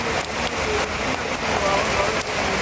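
Heavy rain pours down outside St. Goretti School, where water has pooled in the street; a dense, steady hiss of downpour fills the air, with faint voices underneath.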